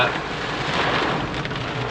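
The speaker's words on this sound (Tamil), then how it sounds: "மழை பெய்யுது" Steady rain patters on a narrow loop road in the Yercaud hills, a dense continuous hiss filling the whole stretch with no voices.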